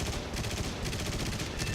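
A fighter's 12.7mm machine gun fires from a LaGG aircraft in the War Thunder combat flight game, a dense, continuous rattle of rapid shots that is loud and close throughout.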